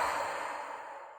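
A slow, deep, deliberately audible out-breath, a long breathy whoosh that fades gradually over about a second, close and alone.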